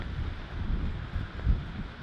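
Strong wind blowing outdoors, buffeting the microphone with low rumbling gusts that swell and ease, one stronger burst near the middle, fairly quiet overall with no clear speech.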